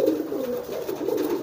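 A racing pigeon coos close by, soft throaty repeated rolling calls in a low warble.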